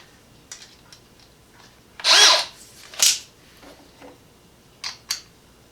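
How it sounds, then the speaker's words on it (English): Two short bursts of a Craftsman 20V brushless cordless drill boring into material, with faint clicks and pauses between, fairly close and otherwise quiet. "we're going to try and drill this all the way down"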